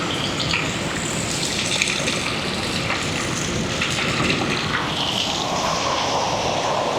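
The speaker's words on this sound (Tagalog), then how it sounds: "Ito yung tinatawag na Talay Falls." Talay Falls, the tallest waterfall in Laguna, produces a constant, dense rush of falling water that fills the whole stretch without pause and has no voices over it.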